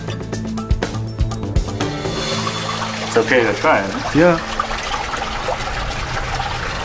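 Fresh, cold spring water trickles at Petra in the Jordanian desert, a steady broadband wash running under close conversation between a few people.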